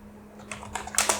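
Keys tapped on a computer keyboard while a Python input prompt is entered, a quick run of soft clicks that grows denser and louder toward the end, close up, with no talk.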